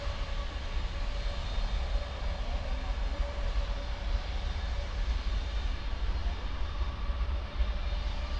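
An Avianca airliner lines up on runway 7 at Miami Airport, heard as a steady, distant jet engine roar and whine holding at a constant level throughout.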